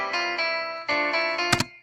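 Chords from music notation software playback of a first measure, sustained synthetic tones changing a few times over about two seconds, ending with a brief bright burst, no talking.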